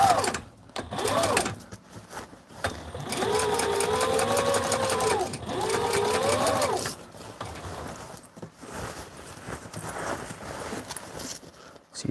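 A Sailrite sewing machine tacks down a torn, opened-up seam on a flight suit, running in two steady bursts of rapid stitching separated by a short pause, close and clear with quieter handling noise before and after.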